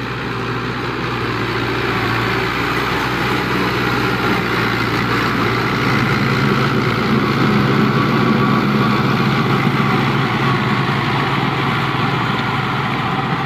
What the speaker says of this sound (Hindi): सो अभी गाड़ी रूटर पे चल रही है